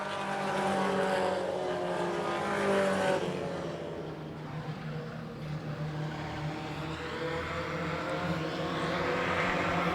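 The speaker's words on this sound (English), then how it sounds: "3 cars racing for the top 3 positions in victory lane" Race cars on the final lap of a 3/8-mile oval track roar past as a pack, their engine noise swelling loud and then fading into a distant, droning rumble.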